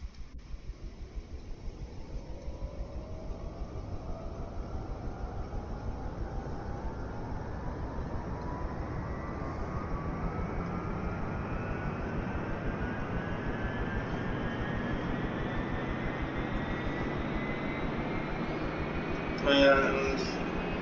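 A Bell UH-1 Huey helicopter turbine winds up from a start, a steady rushing whine climbing slowly and evenly in pitch over about twenty seconds, moderately loud and continuous.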